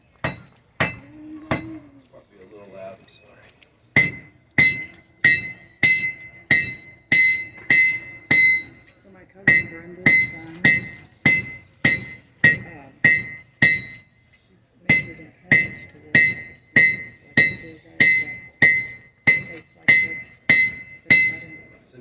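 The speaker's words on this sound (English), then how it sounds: "taking the remaining metal under the leaf and hammering that out to a coat hook feature" Rhythmic ringing hammer strikes on hot metal as a blacksmith forges a leaf-shaped coat hook, each blow bright and bell-like, repeating at a steady pace with a couple of short pauses, loud and close.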